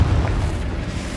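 A Confringo blasting spell detonates in Hogwarts Legacy with a heavy, deep boom, loud and close at the start, then settling into a rumbling low tail.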